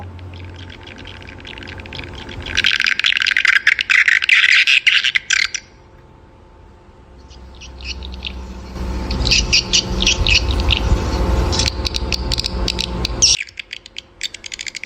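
Dense, high-pitched twittering swiftlet calls play in loud bursts from an AUDAX AXM Garuda swiftlet-house sound system over a low hum, with squawks and a rumbling low-frequency stretch in the middle.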